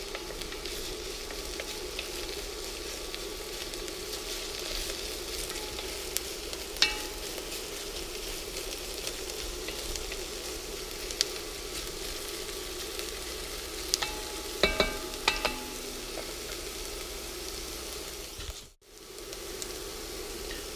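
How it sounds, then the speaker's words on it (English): Turkey chili sizzles and bubbles steadily in a cast iron pot on an induction cooktop, a constant close frying hiss broken by occasional scrapes and clicks of stirring, no voices. "Make sure you're occasionally stirring this up so they don't stick and burn to the bottom of the pan here"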